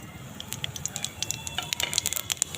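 Whole spices sizzle and crackle as they hit hot oil in a pan, a steady frying hiss peppered with sharp pops that grow busier toward the end, with no talking.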